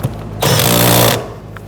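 A power tool tightens a seat bolt on a 2011-2015 Kia Sorento 2.4L, giving a loud, close, rattling impact burst that lasts under a second and then stops.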